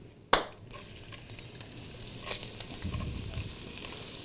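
Onions drop into a hot pan for beef nihari with a sharp clatter, then settle into a steady, close sizzle of frying that continues alone without talk.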